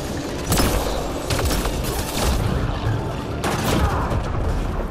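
A fire combo explosion bursts in the Mass Effect Andromeda video game amid a steady, dense clatter of gunfire, with loud blasts near the start, in the middle and again toward the end.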